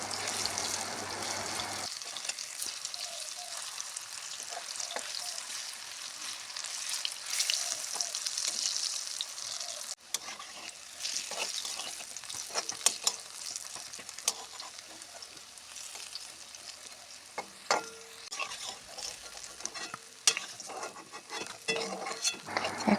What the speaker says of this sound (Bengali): তো আস্তে আস্তে বলটি দেওয়ার পর আস্তে আস্তে আবার নাড়াতে হবে।